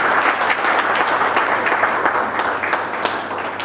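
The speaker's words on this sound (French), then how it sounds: "je voudrais que vous les applaudissiez vraiment très fort" Audience applause at a double inauguration ceremony for PPC Barnet, a dense, steady wash of many hands clapping at close range, holding at an even loudness for the whole stretch with no voices over it.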